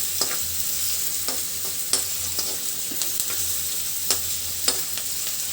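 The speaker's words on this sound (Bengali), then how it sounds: "সরিষার তেল তো ভালো করে গরম হয়ে গেলে কিন্তু পেঁয়াজ কুচিটা দিতে হবে" Chopped onion frying in hot mustard oil makes a steady close sizzle, broken by several sharp spatula scrapes and stirring clatters, with no voices.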